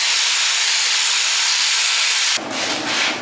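A grinder scours scale off a forged ladder Damascus steel billet with a loud, steady, harsh hiss that shifts to a rougher, wavering tone near the end.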